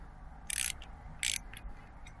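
A ratchet tightens a 6mm bolt on a TPMS sensor for a tire, two short, crisp bursts of ratcheting clicks separated by a pause, close up against quiet background.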